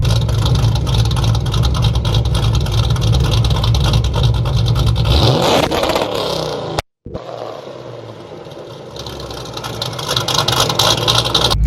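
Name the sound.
supercharged Mustang GT revving on two-step, shooting flames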